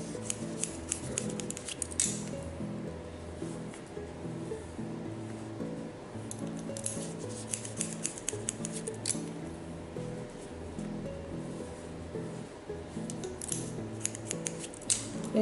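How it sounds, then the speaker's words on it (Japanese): Scissors snip rapidly and repeatedly while a stylist cuts the side sections of long hair into a short mini bob, a steady close run of crisp metallic clicks over a low background hum throughout. "サイドはここに1回集めてダイレクションかけて全部1回切ります"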